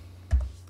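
A single quick keypress on a computer keyboard, one soft close click standing alone against a low steady hum while entering a command in AutoCAD.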